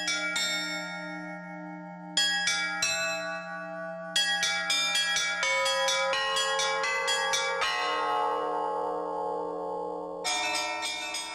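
Carillon bells in a Russian bell tower ring out a lively melody, with bursts of struck bells starting at intervals and long resonant tones ringing on beneath them, loud and close, with no voices.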